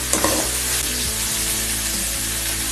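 Chopped green tomatoes with salt sautéing in oil over a low flame for chutney, a loud continuous sizzle with a faint clink of a stirring utensil near the start.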